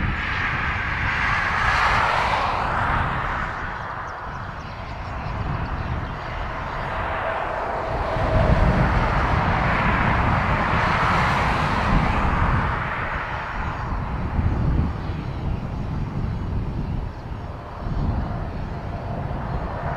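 A Cessna Citation Mustang business jet at Dublin Airport gives a steady, loud roar of jet engines that swells and shifts for about twenty seconds, with no voices over it.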